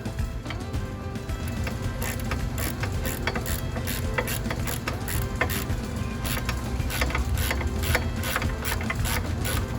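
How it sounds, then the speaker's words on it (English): Bolts being tightened on a Jeep rear door hinge during a Rugged Ridge HD tire carrier upgrade, with a steady run of rapid ratchet clicks over a constant low mechanical hum, close and fairly loud, no talking. "screw in and tighten down these bolts here"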